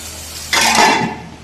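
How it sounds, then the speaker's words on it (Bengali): Cumin seeds and dried red chili hit hot oil for dal fry, bursting into a loud, close sizzle that swells quickly and then fades a little. "এখন আমরা জিরা দিলাম, শুকনো লঙ্কা।"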